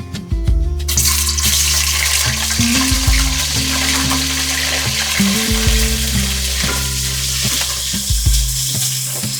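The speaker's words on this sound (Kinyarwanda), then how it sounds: "amavuta rero arahiye, ngiye gushyiramo utu tunyama nitwo ndabanza gukaranga." Small pieces of tripe frying in hot oil, a loud continuous sizzle with stirring and occasional scraping knocks in the pan, close up and with no voices.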